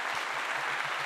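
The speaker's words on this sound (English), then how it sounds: "Let me give that applause again" Applause played as a sound effect during a Christmas tree craft livestream: steady dense clapping throughout the short burst, moderately loud with no voices.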